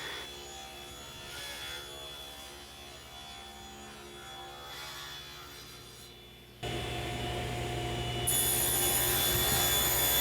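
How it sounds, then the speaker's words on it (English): A saw rips glued-up plywood cabinet panels to width against the fence in a home shop, giving a steady whirring cut that suddenly grows louder and harsher partway through and stays loud to the end. "So we're gonna rip them to width now and cut them to length."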